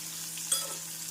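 Sliced onions frying in hot oil in a pan while cooking a Tamil tamarind curry with turkey berries; a soft steady sizzle with a brief stir-like rustle in the middle, no talking.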